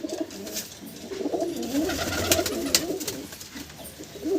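Medium-aged high-flying pigeon chicks coo in a continuous low, throaty murmur, close and moderately quiet, with scattered clicks and rustling around them.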